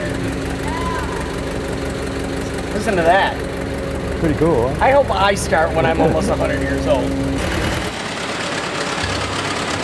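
A 1923 Ford Model T runs with a steady low idle and mechanical rattle under people talking nearby, then the engine note cuts off abruptly near the end.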